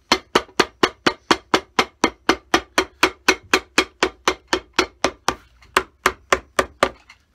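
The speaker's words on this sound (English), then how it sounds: "Oh, it's hammer time. A little hammer time." A hammer strikes steadily and fast while repairing a Stefano Bemer shoe, landing more than twenty sharp, evenly spaced blows close by. Nobody speaks over it.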